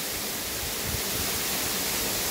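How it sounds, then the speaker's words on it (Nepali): Waterfall near the Fewa power house, water rushing in a steady, dense roar that holds even from start to finish, with no voices. "ल साथीहरू यसरी वाटरफल भइरहेछ यहाँ चाहिँ है।"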